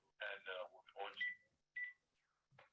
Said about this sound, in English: I got a phone here making a noise